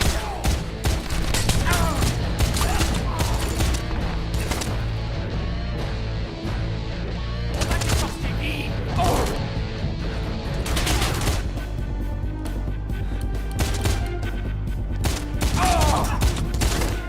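Wanted: Weapons of Fate shootout with repeated bursts of gunfire and scattered shots across the whole stretch, loud and dense, mixed with game effects and some voices.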